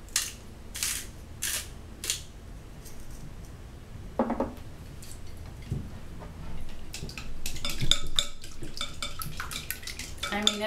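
Chopsticks whisk eggs for tamagoyaki in a home kitchen, a faint, quick clicking against a bowl with scattered clinks of dishes and utensils and a few louder knocks, no one speaking.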